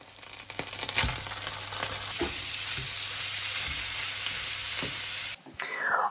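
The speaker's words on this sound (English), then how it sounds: "I always start off a stew by braising the meat in some butter and oil on high heat." Stew meat browns in butter and oil over high heat, giving a constant loud sizzle up close, broken by a few stirring knocks, then a brief pause before the frying resumes.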